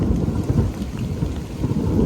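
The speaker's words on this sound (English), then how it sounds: "I heard thunder." Close thunder rumbles deep and loud for the whole stretch, rolling in uneven surges beneath heavy rain during a storm on a hiking trail, with no voices.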